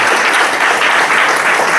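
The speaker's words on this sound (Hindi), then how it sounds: "जोरदार ताली होनी चाहिए" Audience applause at a business opportunity presentation, a dense, steady clapping from a large crowd that fills the whole moment without pause or voices.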